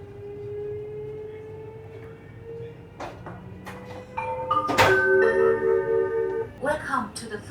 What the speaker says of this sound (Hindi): हमारी ट्रेन रवाना।